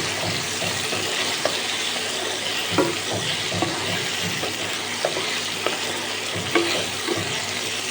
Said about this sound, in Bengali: ভালো করে আলুটাকে কিন্তু ভেজে নিতে হবে একদম লাল লাল করে